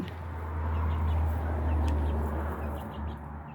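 Silkie chickens cluck and murmur restlessly inside a heated greenhouse coop, soft scattered calls over a constant low mechanical hum from the heater.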